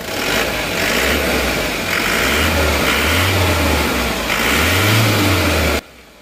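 A car engine revs up in repeated swelling bursts over a steady idle, close and loud, then stops abruptly.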